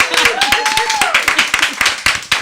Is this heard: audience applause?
yes